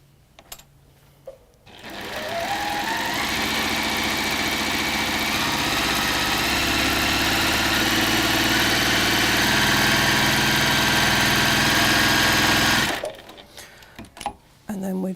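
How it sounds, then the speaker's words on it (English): Sewing machine stitches quilt fabric a quarter inch from a marked line in one long continuous run of fast, steady mechanical whirring, close and loud, starting and stopping abruptly with quiet room sound on either side. "And then we're going to sew 1/4 inch either side of the line."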